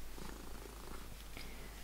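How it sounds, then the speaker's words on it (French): A small cat purring continuously up close. The rumble is low and steady under a soft hiss, with a few faint clicks and no talking. "Regardons ce petit chat. Ce petit chat chéri."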